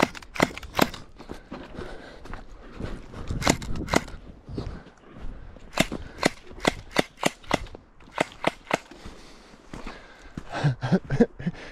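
Rapid bursts of gel blaster toy gun fire, sharp snapping shots in quick clusters and single pops, close and loud throughout with no talking.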